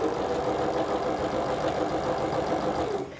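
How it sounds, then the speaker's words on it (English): A sewing machine runs a continuous zigzag stitch along a fabric hem, a close, steady mechanical whir with fine rapid ticking that stops abruptly at the end. "all I'm going to do is just run a line of zigzag stitch down here"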